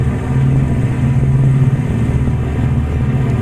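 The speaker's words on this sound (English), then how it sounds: "get these engines really cranking. Both sides, hear them rev." Twin aircraft engines in the IL-2 Cliffs of Dover flight game run up with the brakes held on a beach before takeoff, a loud, steady low rumble that swells slightly and holds throughout.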